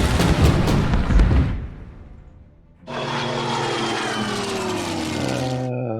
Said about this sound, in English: and shoot up the anti-aircraft guns.